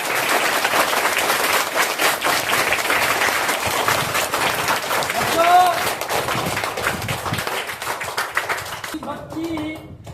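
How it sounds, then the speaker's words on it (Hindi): Dense applause from a school audience fills a Teachers' Day speech, steady rapid clapping throughout with shouts and cheers rising above it near the middle and end. "इसलिए तुम लोग भी उनके नाम पर जोरदार तालियां।"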